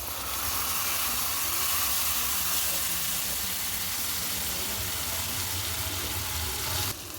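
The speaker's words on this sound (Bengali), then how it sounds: "টমেটো বাটাটা ভালো করে কুক করে নেব" Tomato paste sizzles steadily in a hot pan while cooking a chicken pizza topping, a loud even hiss and crackle running throughout before cutting off near the end.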